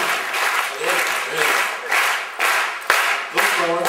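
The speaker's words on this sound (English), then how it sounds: "Everybody, start clapping" A comedy club crowd claps in a slow shared rhythm, about two swelling bursts of clapping each second, fairly loud and close, with a voice faintly mixed in.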